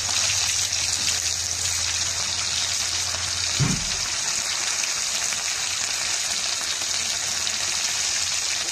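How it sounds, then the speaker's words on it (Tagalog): Small tawilis fish frying in hot cooking oil, a steady broadband sizzle and crackle running throughout, with a brief low thump partway through and no talking. "Mainit na ating mantika. Ayan, nalagay natin ang tawilis."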